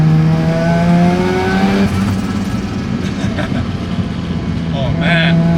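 A rebuilt Mazda RX7 FD rotary engine pulls hard on a mountain touge road, its harmonic drone climbing and shifting as the car accelerates, loud and close from inside the cabin, with a voice briefly heard under it.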